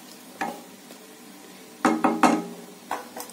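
A spoon stirs coconut milk into sodhi kulambu in a pot, giving a few soft scrapes and clinks at irregular intervals over quiet background noise.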